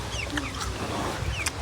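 Chickens cluck and peep in short, scattered calls at moderate distance over a low background rumble, with a few brief sharp chirps standing out.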